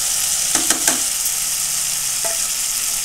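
Cabbage sabzi with boiled cabbage stirred in a hot pan: a few scraping strokes of a spoon against the pan over a steady sizzle, close and fairly loud, no voices.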